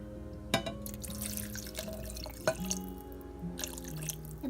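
Water from a jar poured over food in a cooking pot, with splashing and a few sharp drips and clinks of glass, close and moderately loud, with no talking.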